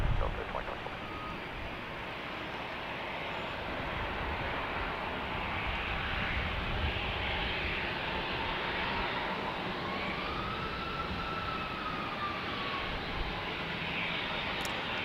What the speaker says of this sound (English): So that KC-135 is part of a group of KC-135s right here that are part of the Utah Air National Guard.